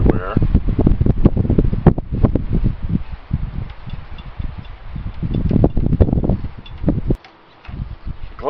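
Strong wind of about 50 miles per hour roars and buffets continuously around a microphone during outdoor work on an IH 2250 loader boom cylinder, rumbling with gusty surges and a brief lull near the end.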